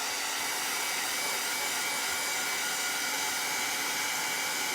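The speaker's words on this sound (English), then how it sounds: "I am going to run the dryer over this real quick" Hair dryer blowing over a freshly inked drawing, a steady close airy whoosh held at constant strength with no voices.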